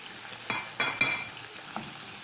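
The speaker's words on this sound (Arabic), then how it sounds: "دلوقتي بعد ما شوحنا البصلة زي ما حضراتكم شايفين، هنبدأ نضيف قطع الفراخ." Chicken pieces go into a pan of sautéed onion, giving short bursts of sizzling and stirring scrapes, three or four close strokes over a quiet background.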